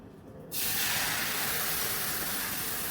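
Batter hits a hot, oil-brushed pan and starts a sudden, loud hiss that keeps up as a steady sizzle.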